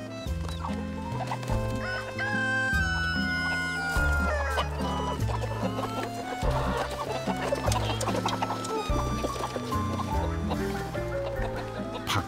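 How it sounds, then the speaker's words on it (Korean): Free-range chickens come down at feeding time, and soft clucking and fowl calls run through a steady bed of background music, faint and continuous, with no talking. "밥 시간이 되니 어디선가 닭들이 내려오네요."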